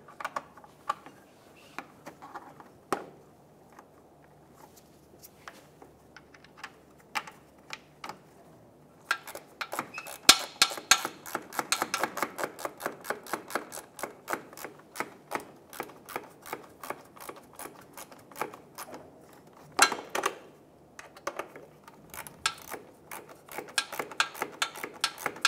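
Mounting screws driven into the parking light assembly of a 1996-2002 Toyota 4Runner, heard as close, rapid ratcheting clicks in bursts with brief pauses, no talking.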